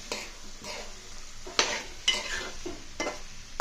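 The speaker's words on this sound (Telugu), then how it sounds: "టమా బంగాళదుంప ముక్కలు వేసి చక్కగా కలిపిదాం" Potato and tomato pieces are stirred in a hot pan with a spoon, giving repeated scraping strokes over a light sizzle, close and moderately loud, with no talking.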